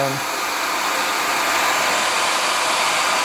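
A hair dryer blows continuously and loudly up close as a woman's hair is blow-dried. The roar is steady and broadband with no breaks.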